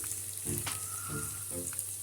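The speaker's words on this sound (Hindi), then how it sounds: "मीडियम साइज़ का कटा हुआ प्याज है, 1 कप पूरा भर के है, ये इसमें डालेंगे और ऐसे भी चलाते हुए सौंते करेंगे" A cup of chopped medium onion sautéing in hot oil and butter for paneer, a soft steady sizzle under a few brief scraping stir strokes, close and quiet.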